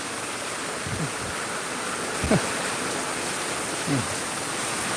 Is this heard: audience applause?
no